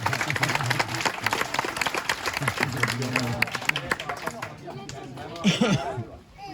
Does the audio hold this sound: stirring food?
no